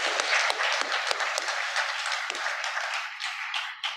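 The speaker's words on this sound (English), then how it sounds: "So let's all give a round of applause." Conference audience at a South Asia nutrition event applauding young researchers, a dense steady wash of many hands clapping that holds fairly loud throughout, with a few sharper claps standing out near the end.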